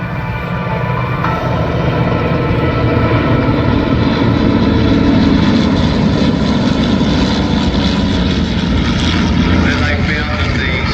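A classic Royal Australian Air Force trainer aircraft flies at the Tocumwal air show, its propeller engine a loud, steady, close drone throughout, with a voice speaking over it.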